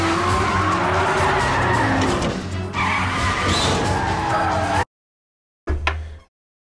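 Car tyres skid and squeal through a drift in the Garry's Mod video game, a loud continuous screech with engine noise that cuts off abruptly, then a brief burst of skidding returns near the end.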